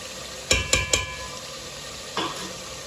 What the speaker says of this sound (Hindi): 2 मिनट के लिए मैंने पका लिया मिक्स करते हुए।